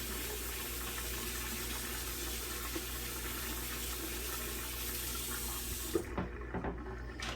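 Cranberries are rinsed under a kitchen tap, the running water hissing steadily and evenly for several seconds before the flow stops, leaving a few faint clinks and splashes.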